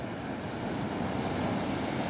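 South Atlantic surf at Misty Cliffs on the Cape Town peninsula, a broad steady roar of breaking waves with wind rushing across the microphone, swelling slightly louder toward the end, with no voices.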